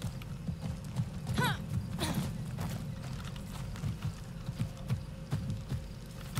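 A horse's hooves clip-clop at a steady walk in the video game Far Cry 6, fairly quiet and close, with a brief whinny early on and light background ambience.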